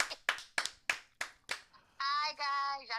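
Six sharp, evenly spaced hand claps ring out close and clear in a radio morning show studio, followed by a voice holding a sustained sung or shouted tone.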